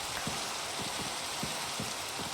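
Steady rain falls in the Minecraft video game as a constant, even hiss of drops, with a few soft low thumps scattered through it and no voices.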